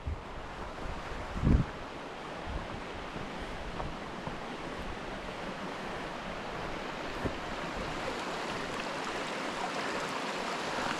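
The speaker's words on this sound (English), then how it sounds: "Another close-up view of the river." A river in the White Mountains of New Hampshire rushes steadily along the Rocky Branch Trail, a broad continuous roar of flowing water with light wind buffeting the microphone and a brief thump early on.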